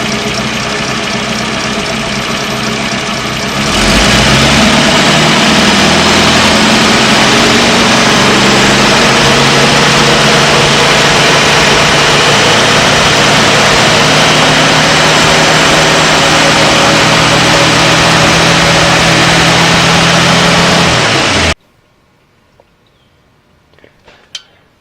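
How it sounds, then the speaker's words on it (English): A 1938 Buick Special engine revved up from idle, its loud, steady, close roar holding for nearly twenty seconds before it drops away to near silence. "You have to speed your engine up."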